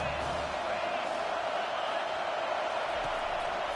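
A stadium crowd roars at a college football game between Georgia and Oklahoma State in a video game, a loud continuous wash of noise under a play-by-play voice.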